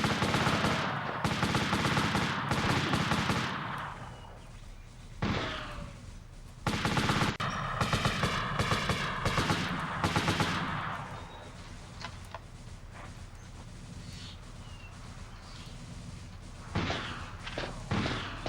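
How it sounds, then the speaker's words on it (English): Rapid bursts of gunfire from the PlayStation video game Army Men: Land Sea Air, loud repeated volleys and machine-gun rattles with thuds in between, continuing through most of the stretch without speech. "You can see the bullets flying up in the air."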